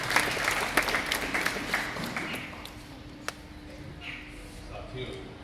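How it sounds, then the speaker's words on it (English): Applause from an audience at a sculpture exhibition at ITM University in Vadodara, greeting a guest; scattered clapping fades over several seconds beneath a faint lingering tone, with some crowd murmur. "Give him a huge round of applause."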